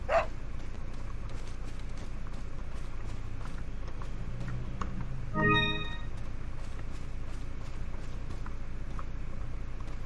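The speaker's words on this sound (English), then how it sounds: "Let's help this dog." Dog in a horror video game barking a few times over a steady ambient bed, one brief louder yelp standing out midway, moderately distant and mixed with faint clopping steps.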